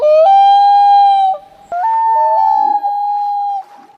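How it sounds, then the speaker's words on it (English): Common loon wailing call, long sustained tonal notes that hold steady and step upward in pitch, two drawn-out phrases separated by a brief pause, clear and loud with no other sounds. "Next one is the majestic loon bird."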